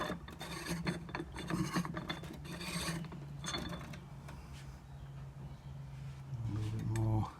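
Piston ring end being ground on a small hand-operated ring filer during Honda S600 engine assembly, a close rasping, scraping grind in repeated strokes with talk over parts of it.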